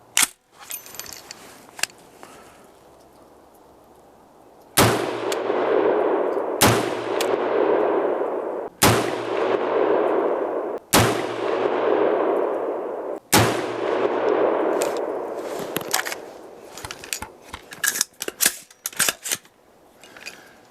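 An AR rifle fires a handful of loud, sharp shots spaced a couple of seconds apart outdoors, each followed by a long ringing decay, then a clatter of handling noises.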